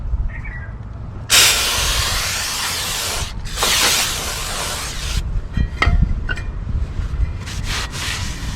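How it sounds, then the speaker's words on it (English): Brake cleaner sprayed onto a rear brake rotor of a 2016 Toyota Sienna, two loud close hissing blasts of aerosol separated by a short pause, followed by quieter scraping and clicks. "make sure you clean it with some brake clean"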